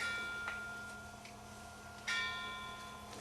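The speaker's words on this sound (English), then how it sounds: "The bell invites me." A bell rings in a staged performance of Macbeth, giving two faint, distant strikes with a lingering tone between them and no voices.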